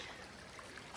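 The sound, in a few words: running water of Hauser Creek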